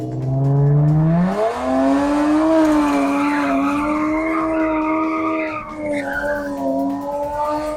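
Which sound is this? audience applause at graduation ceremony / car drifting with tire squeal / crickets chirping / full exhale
car drifting with tire squeal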